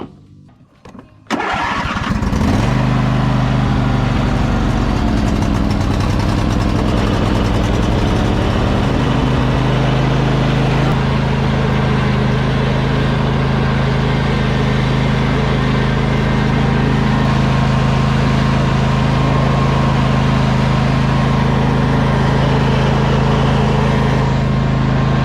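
A cheap used riding lawn mower engine starts after a brief crank, then idles steadily and loudly for the rest of the clip, a continuous close rumble with no talk over it.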